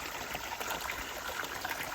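Water flows into a millet field for irrigation, a soft, steady trickling and gurgling stream heard faintly and alone throughout.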